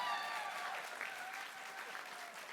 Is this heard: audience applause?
yes